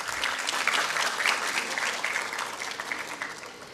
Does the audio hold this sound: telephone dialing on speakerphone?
no